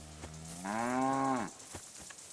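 One drawn-out cow moo in the Kingdom Come Deliverance 2 video game, a close, rising and falling bovine call lasting about a second over soft background ambience.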